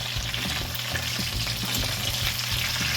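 Turkey pieces for Haitian smothered turkey crackle steadily as they fry in hot oil, a loud dense sizzle running continuously with no talking.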